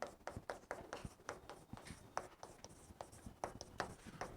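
A teacher writes on a board during a Class 12 chemistry lesson, making a quick string of sharp taps and scratchy strokes that are close and fairly faint, with no talking.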